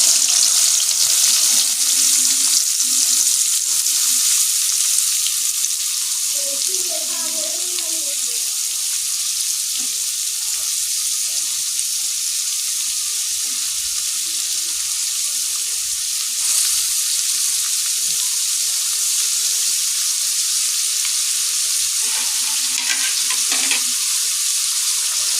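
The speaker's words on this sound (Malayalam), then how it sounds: "ഇനി നമുക്ക് സബോള വാട്ടാം" Sliced onions sizzle steadily in a hot pan for a duck curry, a continuous bright frying hiss throughout, with occasional stirring scrapes and a faint voice in the background.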